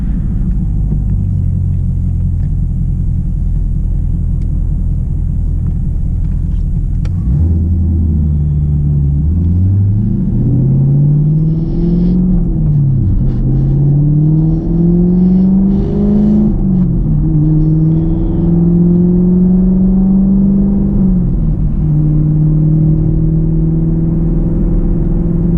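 A 2020 Chevrolet Camaro SS 1LE engine pulls loud and close, rising in pitch through a gear, dropping sharply at the shift, then climbing again and settling into a steady cruising drone.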